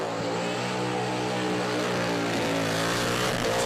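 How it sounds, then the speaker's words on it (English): A supercharged car engine revs hard and steadily, with a high, sustained supercharger whine riding over the roar throughout. "Nice big revs. You can hear the blower whining."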